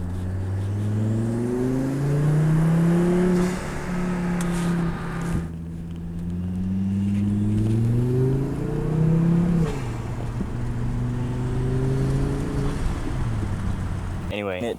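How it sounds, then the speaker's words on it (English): Volvo engine revving with the intake open, giving a steady, droning induction suck whose pitch rises and falls in several long sweeps, loud and close with no talk. "I have this open so I can hear the induction sound better."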